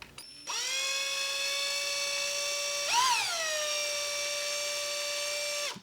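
A drill pushing through material gives a steady high-pitched whine for several seconds, with a brief rise in pitch and loudness partway through as it breaks out, then holds steady before stopping abruptly; close and loud with no voices.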